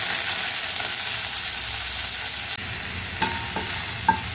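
Steady crackling sizzle of tempering spices frying in hot oil for tomato rasam, loud and close, with a few light stirring clinks toward the end.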